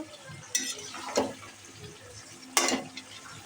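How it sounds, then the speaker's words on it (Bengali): A metal lid clatters onto a cooking pot of rohu fish curry, two or three sharp clanks spread across a few seconds over a faint kitchen sizzle, close and moderately loud. "এই যে ঢাকনা দিয়ে ঢেকে দিলাম।"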